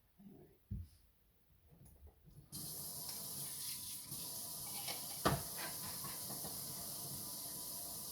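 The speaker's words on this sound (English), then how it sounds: "now that we have cleaned out the old coffee, time to rinse it" Steady, loud hiss of water running from a kitchen tap to rinse out a coffee maker, starting abruptly after a few quiet clatters and continuing as a constant rush with a brief knock partway through.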